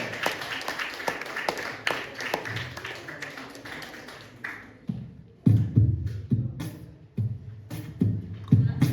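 A stage-show audience in Kharkiv claps as a performer walks on, a dense patter of hands filling the first half before thinning into scattered low thumps and taps nearby.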